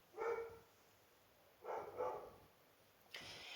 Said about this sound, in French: Vous voyez, Sohan vient de se mettre à aboyer, j'ai été détournée